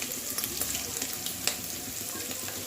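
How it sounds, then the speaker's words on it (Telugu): Pre-boiled prawns fry in hot oil for a Telugu ridge gourd prawn curry, giving a steady dense sizzle with faint clicks of stirring throughout, close and continuous with no talk. "హీట్ అయ్యాక ముందుగా ఉడకపెట్టుకున్న రొయ్యల్ని ఆయిల్లో వేసి దోరగా వేయించుకోవాలి"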